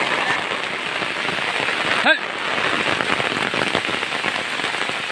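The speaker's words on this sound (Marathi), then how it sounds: "पाऊस थांबायचं नाव नाही घेत आहे" Heavy monsoon rain in Konkan drums steadily on an umbrella close overhead, a dense continuous patter, broken once by a brief sharp knock near the middle.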